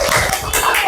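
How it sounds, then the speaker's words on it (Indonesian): Students in a classroom clap for the first discussion group, a dense burst of handclaps filling the room for about a second, with a faint voice underneath. "beri tepuk tangan buat kelompok 1"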